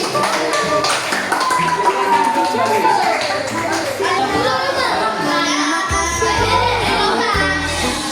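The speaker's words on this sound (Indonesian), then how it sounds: "tepuk tangan untuk kelompok 1" Pupils in a classroom clap for group 1, with scattered, tapping hand claps running under loud overlapping voices and children's chatter that dominate most of the moment.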